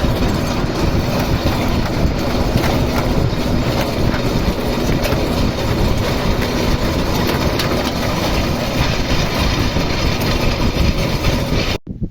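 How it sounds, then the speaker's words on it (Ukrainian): A tractor steering itself by navigation drives across a field while sowing Futurum seed wheat. A loud, continuous mechanical rumble and rattle runs close throughout, cutting off abruptly at the very end. "Трактор йде по навігації."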